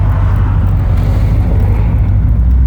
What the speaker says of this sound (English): God dang it, and traffic is coming.